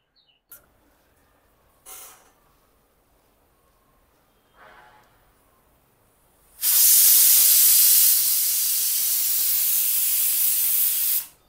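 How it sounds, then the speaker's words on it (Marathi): A pressure cooker cooking masoor dal lets out a few faint short puffs, then bursts into a loud, sustained hiss of escaping steam that holds steady for several seconds before cutting off. "तर इथे कुकरच्या 4 शिट्ट्या झाल्या आहे"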